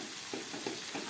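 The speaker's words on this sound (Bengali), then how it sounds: "এটাকে একটু কষাতে হবে আরেকটু" Banana flower curry with chickpeas being stir-fried in a pan, a steady sizzle with soft scraping stirs repeating at an even pace, close and fairly quiet.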